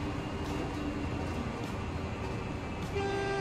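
Train horn honking in the rail simulation game Transport Fever 2, a steady continuous toot sounding over the game's constant rolling rail and ambient noise throughout, loud and close.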